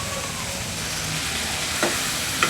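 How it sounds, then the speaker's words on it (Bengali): Okra frying in a pan at home, a soft, steady sizzle heard close, with a couple of faint utensil clicks and no talking. "আর এখন ঢ্যাঁড়স ভাজি করছি।"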